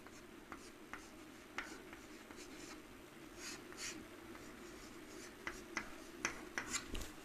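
Chalk or marker strokes on a board during a class 12 maths lesson, with soft scratchy taps and short strokes that come in bursts over a low room hum and quicken toward the end.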